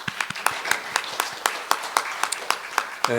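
A congregation claps in a sparse, slightly uneven pattern of distinct hand claps that stays fairly quiet, and a voice starts up just at the end.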